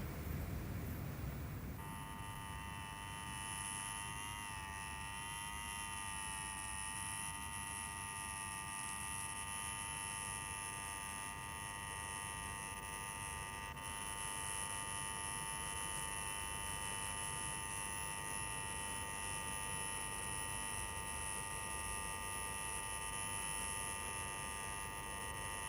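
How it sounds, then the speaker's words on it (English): A buzzer is held down continuously in a 1982 British drama, a loud, steady electronic drone with stacked harmonic tones that starts after about two seconds and runs unbroken to the end, with no speech over it. "Take your finger off that bleeding buzzer."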